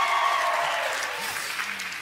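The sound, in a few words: applause from friends and fans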